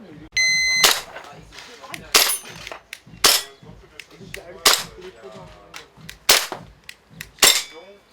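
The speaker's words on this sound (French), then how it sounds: "on propose une nuance de l'airsoft qui est le tir sur cible" Sharp airsoft shots at targets snap out one at a time at irregular intervals, each a loud crack with a slight ring, after a brief electronic start beep.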